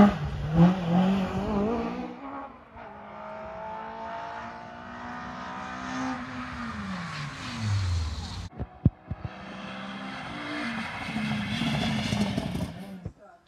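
Rally cars race along a coastal road on the Guernsey rally stage, engines revving hard and rising in pitch as they pass, with a sharp crackle midway and voices talking over the roar.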